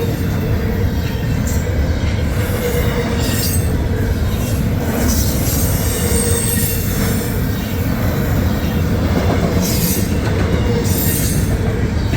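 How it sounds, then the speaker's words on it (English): A Norfolk Southern stack train led by a Nickel Plate Road heritage locomotive passes close by at speed, giving a loud, steady roar of rolling wheels with intermittent squeals and clatter throughout. "The train is flying."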